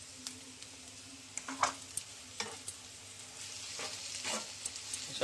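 Onion and chili frying in a pan as a ground coriander, garlic and ginger paste is stirred in for an aubergine bharta; quiet sizzle with sporadic spoon taps and scrapes, close but low in level.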